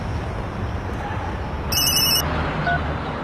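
A telephone rings once in a short electronic trill, clear over a steady low background rumble.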